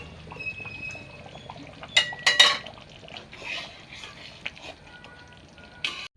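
Fried eggs tipped from a pan into egg korma, heard as close metal clatter and a brief scrape of utensils against cookware with a soft wet pour, over quiet background.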